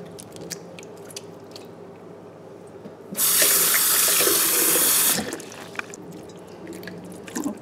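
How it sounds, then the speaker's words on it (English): Barbados cherries rinsed under a running kitchen tap for a home juice, a loud steady rush of water pouring into a sink for about two seconds mid-clip, with quieter handling noises before and after. "before I rewash with the regular water"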